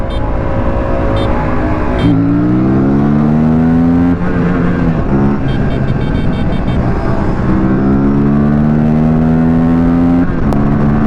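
An Aprilia RS457 and a KTM RC390 accelerate hard side by side in second gear during a rolling drag race, their engine notes rising loudly and steadily with a shift-like drop partway through, close and continuous.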